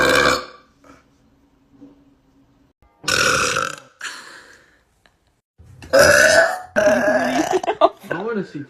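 A girl burps loudly several times, with throaty eructations in bursts between pauses, mixed with voices talking and laughing nearby.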